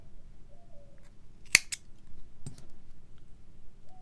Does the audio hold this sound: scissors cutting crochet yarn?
yes